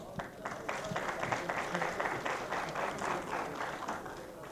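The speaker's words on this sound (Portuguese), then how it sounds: "recebe o carinho e os aplausos de todos." Applause from a congress audience for two speakers on the stage, a dense, steady wash of many hands clapping with faint voices mixed in.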